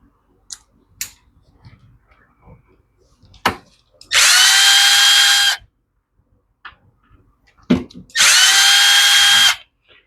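A power driver fitted with a T25 bit backs screws out of the carburetor on a Poulan Pro leaf blower that won't prime. There are two loud, close whirring bursts of about a second and a half each, separated by clicks and handling noises.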